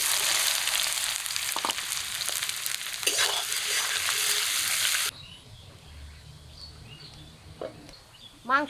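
Onions, bay leaves, dried chillies and whole spices fry in mustard oil in a wok over a wood-fired stove for chicken kosha, a loud steady sizzle that cuts out abruptly midway, leaving quieter background sounds and faint bird chirps.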